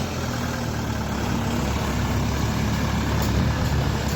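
A Dongfeng 404 small tractor engine idles at a steady, even rumble, running close and continuously with a low throbbing drone and no voices.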